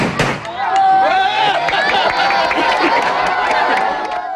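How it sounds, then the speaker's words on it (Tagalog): Homemade PVC pipe boga cannons fuelled with lighter fluid go off at a New Year celebration, a sharp bang followed by a noisy crowd with shouting and cheering, and further pops and firecracker crackle. "Talaga namang bumida ang mga boga sa pagsalubong sa bagong taon."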